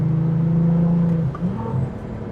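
A V6 car engine revving high, above 4,000 RPM, holds a steady loud drone for about a second before the pitch drops and rises again as it shifts, heard close with no talking.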